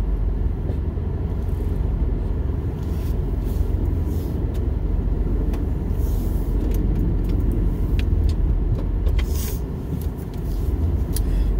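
A semi truck driving away on a winter road in Alaska, its steady engine rumble and road noise filling the whole stretch at a constant, fairly close level, with no talking.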